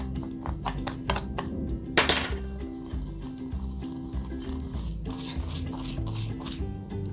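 A spoon stirring apples with cinnamon in a bowl, light clinks and scraping taps in an uneven rhythm, close and fairly quiet, with one sharper clatter near the start.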